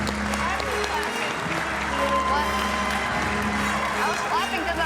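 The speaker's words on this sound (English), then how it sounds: "I was clapping because I'm happy." Audience applause with scattered cheers after the final bows of a school production of The Wizard of Oz, a steady dense wash of clapping filling the whole stretch, with voices mixed in.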